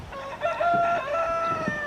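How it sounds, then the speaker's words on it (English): A rooster crows once in Barton, Cumbria, a drawn-out cock-a-doodle-doo at moderate distance, clear against quiet outdoor background. "There's the cockerel down in Barton that keeps giving us a cry."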